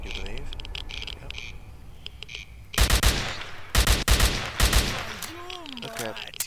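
Enemy bandits in S.T.A.L.K.E.R. Call of Pripyat fire several sharp bursts of automatic gunfire, loud and close in clustered volleys, with a voice talking in the gaps.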